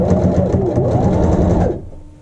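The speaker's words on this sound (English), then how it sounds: "we're going to be sewing an edge stitch all the way down to the bottom corner." A sewing machine runs an edge stitch along fabric, a loud, close, steady mechanical whir lasting under two seconds before it stops abruptly.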